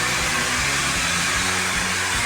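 An electric blower runs steadily, close and loud, a constant rushing whoosh with no pauses and no voices, used at a resort staycation to drive away flies.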